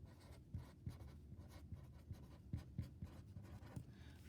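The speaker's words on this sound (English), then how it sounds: "I'm going to write out SOHCAHTOA for us" A pen or marker writes out a trigonometry mnemonic in a geometry lesson, giving a quick run of soft scratches and firm taps in uneven rhythm, close and quiet with no voice over it.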